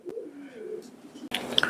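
Fancy pigeons coo in a loft, a soft low cooing running through the first part before brighter rustles and short chirps break in near the end.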